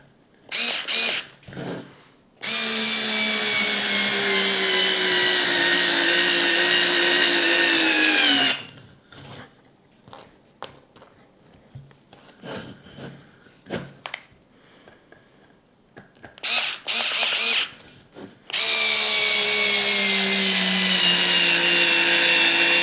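A Parkside PAS 4 D7 4V cordless screwdriver runs close up in two long bursts, each a steady high motor whine that sags in pitch under load, separated by short clicks and handling noises.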